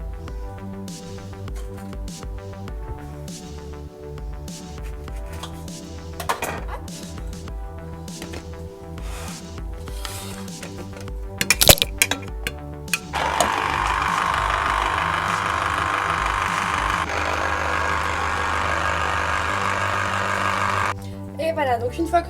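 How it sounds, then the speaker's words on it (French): A lemon being juiced for a homemade cake batter gives a loud, steady, grinding whir lasting about eight seconds, following a stretch of background music. "je vais juste prendre un citron et je vais venir extraire le jus tout simplement"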